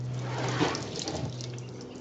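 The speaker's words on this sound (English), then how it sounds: "It's a shower, it's leaking on every side." Water streams and trickles steadily out of the seams of an Ozark Trail cooler, a continuous running splash like a small shower, close and fairly loud, with no talk over it.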